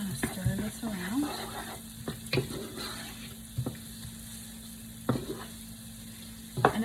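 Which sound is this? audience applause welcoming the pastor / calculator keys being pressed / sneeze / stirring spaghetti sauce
stirring spaghetti sauce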